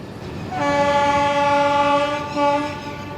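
A passenger train runs through a station without stopping, sounding a long loud horn blast and then a shorter second one over the low rumble of the cars.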